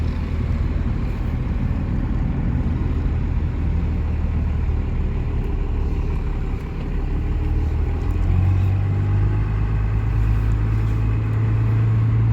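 A 1995 diesel truck, nearly out of fuel, drives along with a steady loud engine rumble and road noise, a low drone rising in pitch partway through as it pulls.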